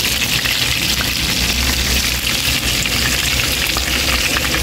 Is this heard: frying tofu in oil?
yes